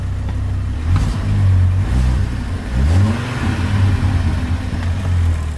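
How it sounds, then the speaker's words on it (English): An Audi RS engine swapped into a VW Caddy and running on an unmapped test ECU revs loudly and close, its harmonics climbing and falling in several surges with uneven stuttering along the way, and no one speaks. "any of the stuttering or anything you hear is just not mapped for this"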